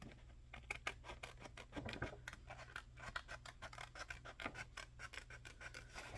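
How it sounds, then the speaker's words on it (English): A zip sander grinding off excess sandpaper from a craft circle, a quiet rapid rasping and scratching in quick repeated strokes, fairly close. "Because I use my zip sander to sand off all the extra"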